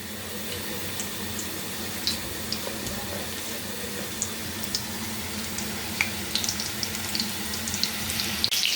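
Thin battered pieces sizzle in a pan over medium heat, a steady soft frying hiss with scattered small pops and crackles, quiet and continuous with no talk.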